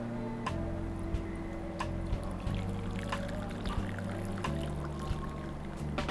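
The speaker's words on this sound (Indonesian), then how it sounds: "Nah ini tinggal kita tuang ke dalam mangkok." Melted palm sugar syrup is poured from a pot into a bowl, a soft continuous liquid pour with small clinks and a low background hum, close by.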